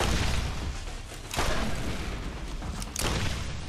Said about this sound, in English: And there was that egg bomb that I told you to avoid, but I decided to go for the shot anyways